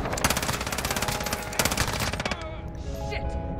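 Rapid automatic gunfire from a Modern Warfare match with an LMG rattles in dense bursts at close range, then breaks off into a brief lull with lighter shots and game effects.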